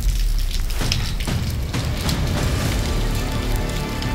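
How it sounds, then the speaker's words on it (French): Steady rain falling at Saint-Nectaire in the Auvergne volcano country, a dense close hiss of drops pattering on surfaces with occasional heavier splashes, no voices. "Et ben il pleut, il mouille à Saint-Nectaire."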